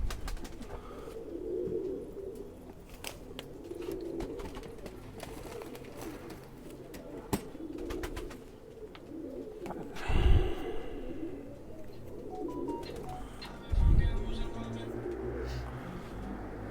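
Khaki pigeons, a pure Sialkoti hen among them, coo softly in a loft, with low, rolling calls that carry steadily under a background rumble, along with two louder thumps.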